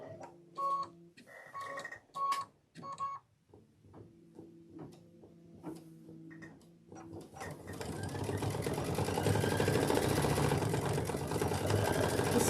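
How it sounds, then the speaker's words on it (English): An embroidery machine stitches lettering onto a book bag, first in short mechanical bursts with pauses and ticking, then settling into a continuous, fairly quiet buzzing run of stitching. "This is a long stitch out"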